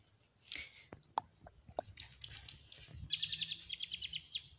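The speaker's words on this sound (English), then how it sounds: "Birds sound beautiful." Scattered bird chirps and short tweets, with a brighter burst of rapid twittering near the end, faint and somewhat distant over quiet background noise.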